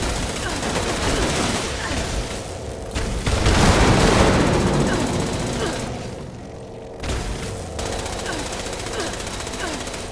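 Weapon fire in the video game Fallout 76, a dense sustained rattle of rapid shots with heavy booming bursts, loud and continuous with brief pauses.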